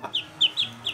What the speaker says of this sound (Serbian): Pogledajte, dečki, patkice dvije.